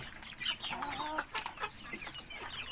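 Chickens cluck close by at a farm in Thailand's Ubon province, where light-colored yellow birds with white tails are kept. Short, busy clucks and squawks come in quick bursts at moderate loudness, and no one talks.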